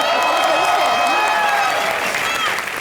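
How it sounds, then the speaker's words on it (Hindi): A studio audience at a Hindi TV comedy show claps and cheers loudly and continuously, a dense wash of applause with music and voices running underneath. "जोरदार तालियां।"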